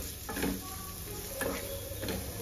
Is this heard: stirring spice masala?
yes